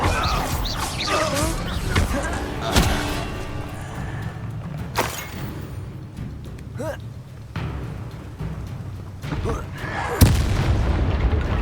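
Explosive Confringo spell blasts in the video game Hogwarts Legacy, a string of booming impacts with crashing debris over dense battle noise and music, several sharp hits standing out near the start, middle and end.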